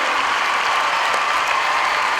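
An arena crowd at the Horse of the Year Show applauds the Puissance winner with a continuous, dense roar of clapping from a large audience, steady and unbroken.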